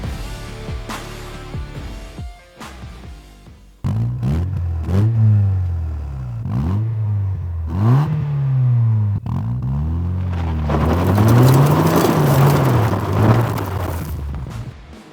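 A Mazda MX-5 NB with an aftermarket Malian exhaust rumbles, then roars through repeated throttle blips, each rev rising and falling, growing louder and raspier toward the end.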